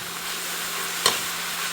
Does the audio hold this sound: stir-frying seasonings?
yes